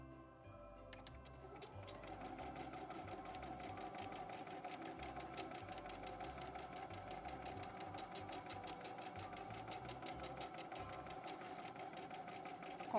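A sewing machine stitches steadily while quilting a Christmas cushion, its needle clattering in a fast, even mechanical rhythm that runs continuously and fairly loud, close by, with no pauses.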